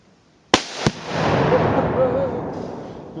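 A Tannerite target hit by a rifle shot, a sharp crack followed by a loud boom that rolls off into a long fading rumble outdoors.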